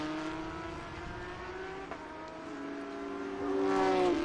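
A Lamborghini GT race car passes at the checkered flag on a road course, its engine a steady, loud harmonic drone that rises in pitch and volume toward the end as it closes in.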